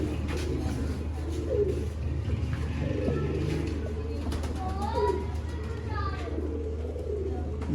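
Pigeons coo softly in a bird-seller's loft, their low cooing repeated over a steady hum, with people talking and children's voices in the background.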